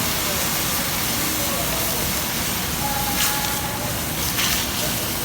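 Sherry or wine poured into a hot pan for wild mushroom risotto hisses and sizzles in a loud, continuous, close wash of sound with a couple of brief louder bursts.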